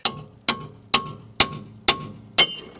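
Six sharp hammer blows strike a Jeep Renegade tie rod end at an even, steady pace, each a loud clanking hit with a short ringing decay.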